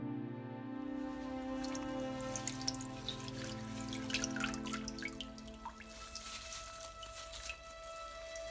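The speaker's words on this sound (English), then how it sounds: "Give them a good old wash to get rid of all the bugs." Nettles being washed in water: soft close trickling and dripping with light splashes over a steady low hum, fairly quiet throughout.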